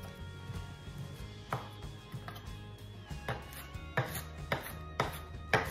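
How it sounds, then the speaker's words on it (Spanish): Cilantro chopped with a knife on a cutting board, a run of soft, close, rhythmic chops that pick up pace and grow a little louder toward the end, with no voices. "Picamos nuestro cilantro."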